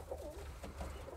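A crested pigeon hen in a backyard pigeon loft gives soft, low, continuous cooing, with rolling murmurs close by and no talking.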